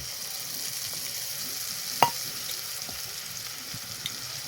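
Soaked cumin and coriander spice paste sizzles steadily in a pan for a vegetarian potato curry, a continuous soft hiss broken by a single sharp utensil clank midway.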